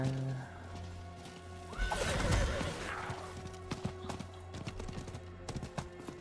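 A horse in Diablo IV lets out a long, loud neigh while its hooves clatter in a steady clip-clop that continues after the call fades.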